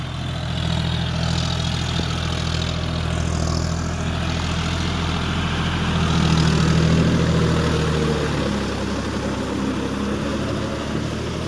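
A John Deere 5050D 4WD tractor churns a small field into mud in third low gear, its engine droning steadily and close throughout with a slight swell partway.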